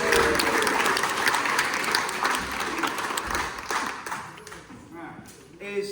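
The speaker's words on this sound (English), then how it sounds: "Give yourselves a big round of applause." A concert audience at a Stockport Symphonic Sounds Orchestra performance gives a round of applause: thick, fast clapping from many hands fills the space, then thins and tapers off over about five seconds.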